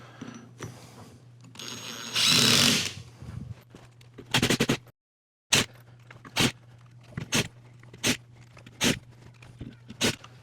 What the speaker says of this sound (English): Just gonna drive in some screws here, just like I did before.